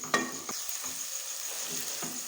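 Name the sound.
stirring and roasting egg dessert mixture with a spoon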